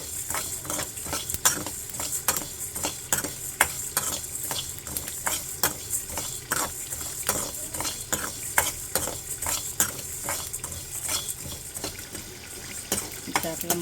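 Fish pieces for a fish curry cook in a pan on a low flame, sizzling under frequent clinks and scrapes of a spoon being stirred, close and busy throughout.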